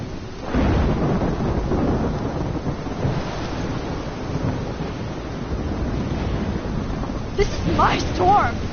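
A thunderstorm in the Life is Strange video game, with deep rolling thunder and steady rain noise that build continuously, swelling louder near the end.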